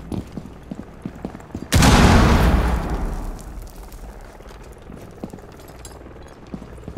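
A frag grenade blows up in the Red Crow DLC of a tactical shooter, one loud close blast that cuts in sharply after faint scattered game noise and then rumbles away over a few seconds.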